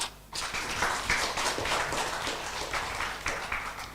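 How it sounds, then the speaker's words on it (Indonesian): An audience at a Buddhist dharma talk on Cittabhāvanā breaks into sustained applause after a short quiet moment, a dense wash of many hands clapping that continues evenly to the end. "kita boleh tepuk tangan"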